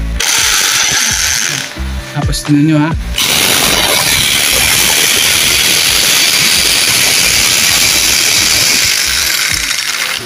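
A hammer drill bores a hole in masonry for a lag shield expansion anchor, a loud continuous grinding rattle running steadily after a brief pause and startup, with someone talking briefly at the start.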